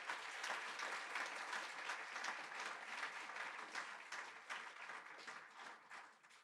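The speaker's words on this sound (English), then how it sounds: "Can we have a round of applause for Alex and Riley and the parents of the bride and groom" Wedding guests at a reception applaud the couple and the bride and groom's parents, a steady, fairly faint wash of many hands clapping that fades out at the end.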